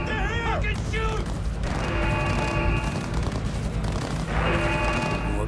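Cyberpunk 2077 firefight: a burst of gunfire and crashing impacts erupts amid a tense street scene, with shouting voices and a shrill whining tone threaded through the loud clatter.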